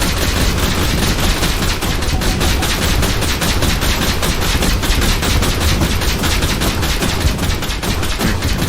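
Shotgun turrets firing nonstop in the Vectorio strategy game, a loud dense barrage of overlapping rapid blasts that stays steady throughout with no pauses.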